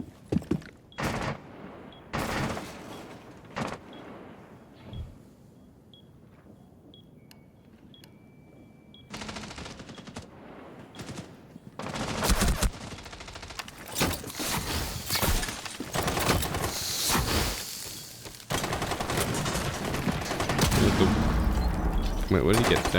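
Video game combat sounds, with a grenade explosion and bursts of gunfire coming in loud intermittent blasts and rattles amid quieter stretches, while a player talks over parts of the action.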